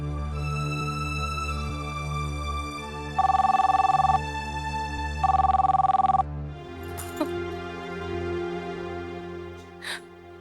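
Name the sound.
telephone ringing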